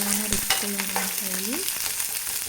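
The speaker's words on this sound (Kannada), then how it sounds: "ನಾನಿಲ್ಲಿ ಫ್ರೈ ಮಾಡ್ಕೊಳ್ಳೋದಕ್ಕೆ ಈರುಳ್ಳಿ ಬೆಳ್ಳುಳ್ಳಿ ಶುಂಠಿ ಸೊಪ್ಪು ಸೊಪ್ಪು ಲವಂಗ ಎಲ್ಲವನ್ನು ಹಾಕಿ ಎಣ್ಣೆಯಲ್ಲಿ ಫ್ರೈ ಮಾಡ್ಕೊಳ್ತಾ ಇದ್ದೀನಿ" Onion, garlic, ginger, greens and cloves frying in oil, a continuous close sizzle with a few utensil scrapes and a faint tonal whine running through it.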